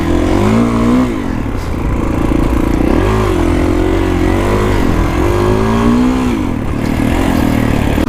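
A Kawasaki KX450X dirt bike roars close and loud while ridden through desert terrain near Bend, Oregon, its engine note rising and falling with repeated throttle blips and gear changes.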